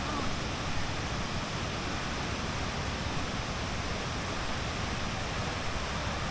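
Steady roar of a waterfall along the way to Kuang Si Falls in Laos, a dense, unbroken rush of water filling the whole clip with no voices.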